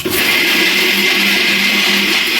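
A mixer grinder whirring at full speed while grinding ginger garlic paste, a loud, steady, unbroken motor drone with a high whine that fills the whole moment alone.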